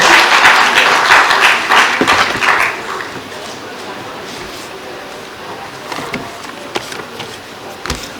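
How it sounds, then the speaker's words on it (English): Audience applause for the rector at a young engineers program event, loud clapping for about three seconds that fades into a quieter room with a few scattered claps and knocks. "Can you please applaud her?"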